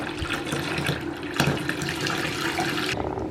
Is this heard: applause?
no